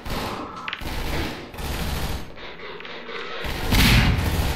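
Turret gunfire and grenade blasts in Half-Life 2, a loud rattling fusillade with heavy booming thuds and a strong blast near the end.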